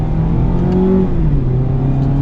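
A Mazda Miata RF hardtop convertible with an automatic transmission accelerates hard from the cabin. The engine note climbs steadily and drops briefly at a quick gear shift, then climbs again in a loud, steady drone.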